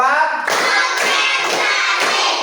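Group rhythmic clapping game in a classroom teaching session, a few loud, evenly spaced bursts of many hands clapping together, each a sharp sustained wash, close and alone.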